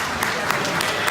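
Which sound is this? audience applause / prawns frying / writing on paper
audience applause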